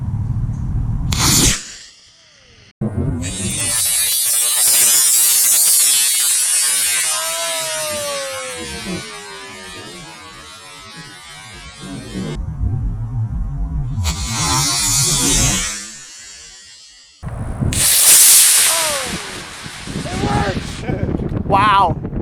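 A wrapping paper model rocket motor ignites and launches with a loud, hissing rush lasting several seconds, followed by further bursts of noise; excited voices talk around it.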